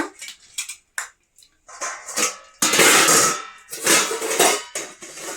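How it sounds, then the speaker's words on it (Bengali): Metal lids are set onto pots of egg curry in a home kitchen, making a series of loud, close clanks and scrapes separated by short gaps, with a long ringing clatter midway. "ডিমের তরকারি চাপা দিয়ে দিলাম, পরে নেব।"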